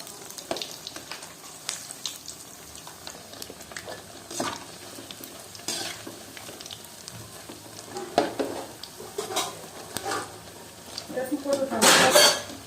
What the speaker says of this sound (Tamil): எண்ணெய் நல்லா காஞ்ச உடனே சின்ன சின்ன உருண்டைகளாக எடுத்து வடை போல கட்டி போட்டுக்கலாம்.